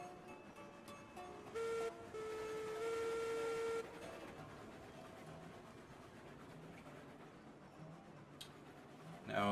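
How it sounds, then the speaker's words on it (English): A steam locomotive whistle sounds in the train game Railroads Online, two steady tonal blasts held for a second or two each over quiet low ambience. "Give me a whistle"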